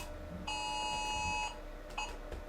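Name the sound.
Amber alert tone on a phone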